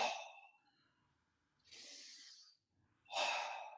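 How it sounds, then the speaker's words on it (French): Slow, deep breaths during a yoga session, soft breathy exhales heard close and quiet with pauses between each breath. "2 respirations abdominales"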